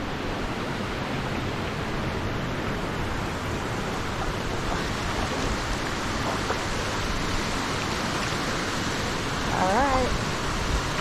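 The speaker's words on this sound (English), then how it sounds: "I'm going to get very close to the waterfall here." Crystal Creek Falls pours down close by in a dense, constant broadband roar of rushing water, loud and unbroken, with a faint brief voice near the end.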